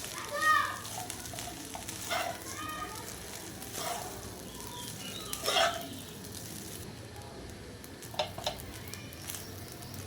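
Cooked coconut rice being stirred slowly in a pan over a medium flame, soft scraping and squishing strokes with a faint sizzle, close and moderately loud, with some speech mixed in.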